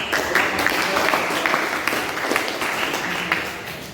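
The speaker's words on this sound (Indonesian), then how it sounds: "Tepuk tangan untuk" A class claps for about four seconds, moderately loud and fairly close, with individual claps standing out in an even burst.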